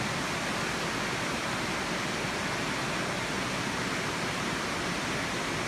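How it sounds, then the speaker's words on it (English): A waterfall beside a zipline ride roars in a constant, dense broadband wash, steady and unbroken throughout, with no voices or other distinct sounds. "The background noise is the waterfall just next to it."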